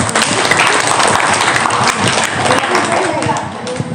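An audience at a gathering gives a steady burst of loud clapping that fills the whole stretch without a break, close and dense.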